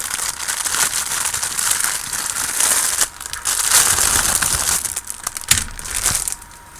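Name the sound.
plastic bag crinkling while unboxing a model kit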